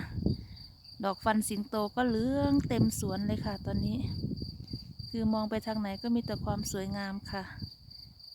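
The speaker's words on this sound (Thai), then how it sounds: "เสียงจิ้งหรีดก็กำลังร้อง" Crickets in a village garden in Ticino, Switzerland, keep up a steady, high, continuous chirping through the whole stretch while someone talks over it.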